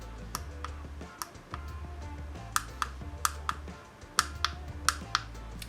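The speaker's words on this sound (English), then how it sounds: "the buttons are somewhat firmer than usual and they have a satisfying clicky" Firm buttons on ACME BH40 budget Bluetooth headphones are pressed repeatedly, giving sharp, close clicks in irregular bursts over a faint low hum.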